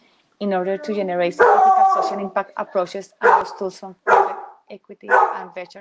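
A dog barks and yips in the background of an indoor talk on corporate social investing, partly masked by someone speaking steadily throughout.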